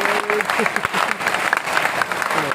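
Audience applause at a Hari Om Pawar poetry recital (kavita) for Independence Day, a dense, steady wash of clapping from a large crowd lasting throughout, loud and continuous with faint voices mixed in.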